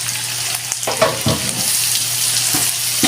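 Onions frying in a pan for palabok, a steady broadband sizzle close by with a few soft stirring knocks and scrapes, no talk.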